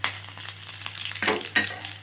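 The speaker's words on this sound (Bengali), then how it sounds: "5 ফোড়নটা ভাজা হয়ে গেলে একে একে সমস্ত সবজিগুলো দিয়ে দিতে হবে।" Five-spice seeds sizzle and crackle in hot oil over low heat, a steady close frying hiss with a couple of louder pops.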